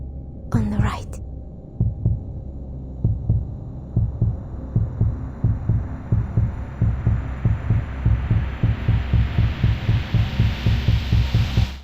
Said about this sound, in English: Don't forget my heartbeat.